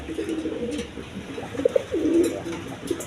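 Quality pigeons kept for sale coo nearby in soft, low, rolling phrases that repeat over a faint background hum, with no voices.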